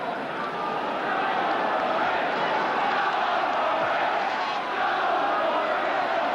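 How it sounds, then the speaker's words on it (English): Stadium crowd at a 1979 Norwich City versus Liverpool football match, a dense continuous roar of many voices swelling and stirring throughout. "a couple of pot shots at the other end have woken the crowd up"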